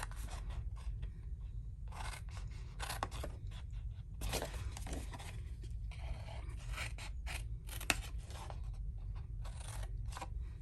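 Scissors cutting down the wedged-in sides of a paper doughnut box, giving a series of quiet, close snips and scraping rubs in irregular bursts over a low background hum.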